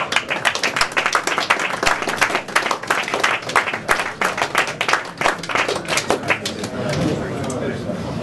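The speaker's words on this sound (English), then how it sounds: "Give Bloodline a round of applause." At a UCMMA 27 MMA press conference the crowd claps for Team Bloodline, a loud sustained burst of many hands that thins out and fades into murmuring room noise after about seven seconds.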